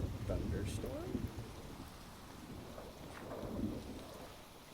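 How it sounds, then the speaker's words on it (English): A thunderstorm with rain in Minecraft, with a steady wash of rain and low rumbling thunder swelling at the start and again midway, fairly quiet and heard without talk. "Is this a thunderstorm?"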